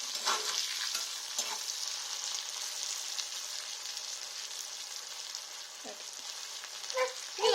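An omelette chicken dosa mixture stirred in a hot pan over a high flame, giving a steady close sizzle with occasional scraping and tapping strokes, plus brief clatters near the end.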